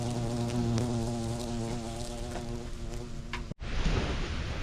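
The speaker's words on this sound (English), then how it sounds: "Check out this carpenter bee. He is drilling right into some treated lumber" A carpenter bee boring into treated lumber makes a loud, close, continuous buzzing drone that cuts off abruptly, followed by a brief burst of rougher noise.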